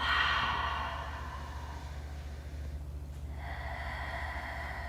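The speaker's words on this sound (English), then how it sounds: "start by breathing in through your nose, and then exhaling through your mouth" A slow breath drawn in through the nose and let out through the mouth during a desert yoga session, soft and airy, heard alone with a low steady background hum.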